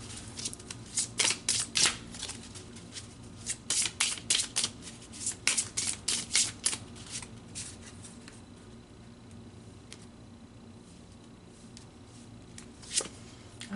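Tarot cards are shuffled by hand in a quiet room, giving bursts of crisp riffling and flicking that come in quick clusters, then thin out to occasional soft taps; close and fairly faint, with no talk.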